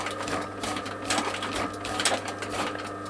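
A sewing machine stitches a leather knife sheath, with a belt strip sitting close to the seam, running in a steady close mechanical whir with a low hum and a few brief louder bursts.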